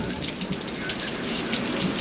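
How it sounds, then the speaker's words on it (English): Heavy rain pours steadily during a thunderstorm at a harvest field, with a low, rumbling undertone of thunder beneath the constant hiss and no speech. "Big thunder, roaring thunder"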